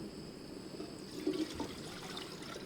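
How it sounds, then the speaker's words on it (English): Water pouring into a camping coffee percolator outdoors, a soft, close trickle and splash lasting a couple of seconds, quiet and continuous with a brief fuller gush midway. "you just put some water in"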